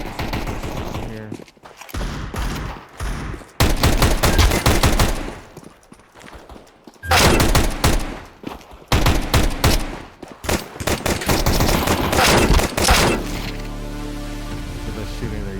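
Gunfire in Counter-Strike 2, loud bursts of rapid automatic shots in several clusters with brief gaps, mixed with other game sounds and a person talking over it.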